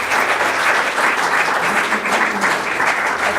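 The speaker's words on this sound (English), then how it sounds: "Can we have a round of applause for our candidates?" An audience at a village meet-the-candidates night applauds the candidates, a full, sustained round of clapping that stays even and loud from start to finish.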